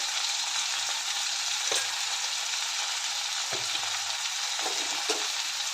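Green chickpea curry ingredients (onion, tomato, garlic and salt) sauté in a pan, a steady soft sizzle broken by a few sharp scrapes of a stirring spoon, with no talking.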